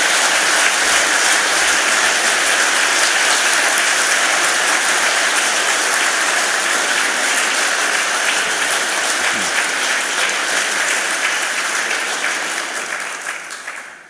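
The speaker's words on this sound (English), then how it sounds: "please give another round of applause to Patrick" A large audience applauds in the Oxford Union debating chamber, dense sustained clapping filling the hall at a steady level before fading out at the very end.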